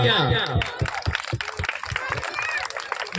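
Clapping at a 2023 Ambedkar Jayanti celebration: a voice speaks at first, then scattered, fairly close hand claps land in a loose rhythm while murmuring continues beneath them.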